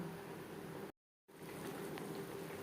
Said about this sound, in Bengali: তিন চার মিনিট ফুটিয়ে নেব গ্রেভির সাথে তেল মশলা ঢোকার জন্য